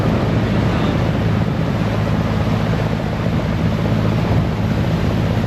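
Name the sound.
fast boat with three engines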